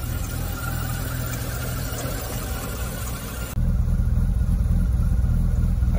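Low, steady engine rumble from a 1994 BMW M3 imported from Japan, a broadband drone that jumps noticeably louder about halfway through and holds there, with no voices.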